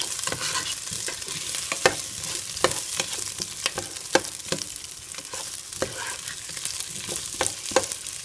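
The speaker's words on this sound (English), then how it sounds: "Stir that around." Chunks of chicken stirred in a pan of sizzling olive oil, with a steady frying hiss broken by repeated sharp scrape-and-clack accents from the stirring utensil, close and alone without talk.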